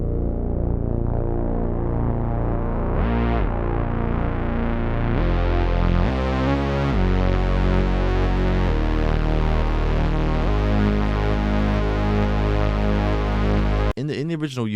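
Drastic Behavior synth bass preset from Analog Colors in Analog Lab, a thick distorted bass with sliding notes, loud and sustained in long gliding phrases, with a brief cut-off near the end.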